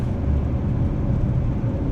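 Steady, loud diesel engine drone and road rumble inside a Tata Sierra as it accelerates to overtake, a continuous low roar with no pauses.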